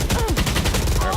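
Rapid gunfire in the Valorant video game, fast repeated shots packed tightly in a short, loud burst beneath an excited caster's voice.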